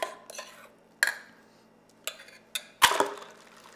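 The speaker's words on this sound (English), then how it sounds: "I just use a fine metal strainer and I'm going to sit here and work it through" Metal clinks and scrapes as blended English pea and mint soup is worked through a fine metal strainer, with several separate bursts of tapping and stirring separated by short pauses, close and fairly quiet.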